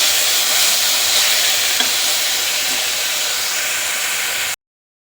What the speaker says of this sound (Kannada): ಈಗ ಟೊಮೆಟೊ ಒಂದು ಸ್ವಲ್ಪ ಬೇಯಲಿ.